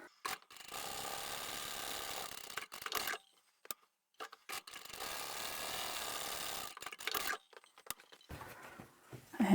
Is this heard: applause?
no